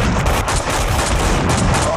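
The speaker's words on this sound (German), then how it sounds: "Oh, die schießen mir ins Genick" Enemy gunfire aimed at the player in the shooter game Max Payne 2, a dense, loud, continuous rattle of shots filling the whole moment.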